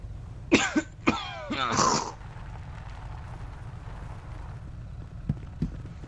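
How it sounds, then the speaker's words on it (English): A person coughing up blood coughs three times in quick, harsh bursts, then a quiet room with faint background hum and a couple of soft knocks. "over here coughing up blood"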